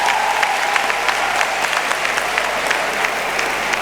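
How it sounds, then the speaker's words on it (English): An audience at a legal professional conduct conference session applauds the speakers, steady close clapping from a crowd holding at an even level throughout. "Please, a round of applause for both speakers."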